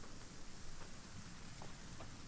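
Steady rain in the survival video game ASKA, a constant soft hiss of falling drops with faint scattered patters and no talking.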